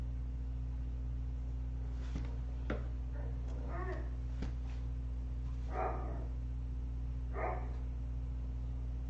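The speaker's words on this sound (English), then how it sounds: "You guys heard my dogs." Dogs playing outdoors let out a few barks and yips, faint and distant, heard as short bursts over a steady low electrical hum in an indoor room.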